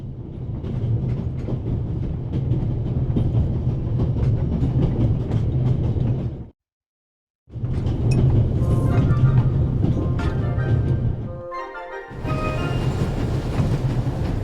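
A train moving at full speed in the video game The Raven Remastered gives a loud, steady rumbling roar with rhythmic rattling, briefly cutting out to silence before resuming with clinks and metallic clatter.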